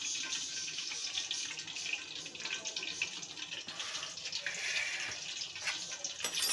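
Floured chicken leg pieces being dipped into a bowl of room-temperature water, giving a steady close splashing and sloshing with soft drips, no voices.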